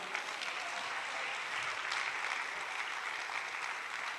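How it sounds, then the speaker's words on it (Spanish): A church congregation applauds during a Spanish-language sermon, a steady wash of many hands clapping that holds at an even level for several seconds. "Denle un aplauso al Señor por ello"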